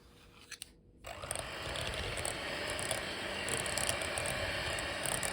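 An electric mixer hums and whirs steadily at minimum speed while beating custard base into butter for a vanilla cake cream, starting after a brief quiet rustle and running continuously without talk.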